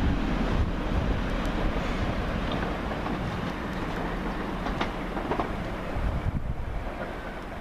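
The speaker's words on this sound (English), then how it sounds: "Got the Transpennine service going through to Cleethorpes" A TransPennine Express class 185 train bound for Cleethorpes passes through Swinton station with a loud, steady rumble and rhythmic clickety-clack of wheels on rail joints, close by, with wind noise.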